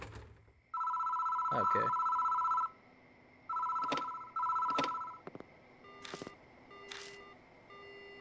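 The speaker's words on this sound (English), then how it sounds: "I answer the phone, but the phone immediately goes dead." A telephone rings at a phone booth in the Spirit Hunter: Death Mark video game, loud electronic bell trills in several bursts separated by brief pauses, with a short spoken word and a few clicks near the end.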